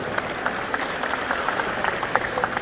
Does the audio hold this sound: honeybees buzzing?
no